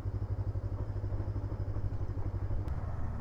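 A Kove 500 motorcycle idles while in second gear without stalling, a steady low, throbbing engine pulse, close by, with faint rattle and no speech.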